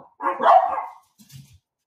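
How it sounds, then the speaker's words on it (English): Dogs excited about someone at the door let out one loud, close bark followed by a softer short yip or whimper. "My dogs are excited about somebody at the door."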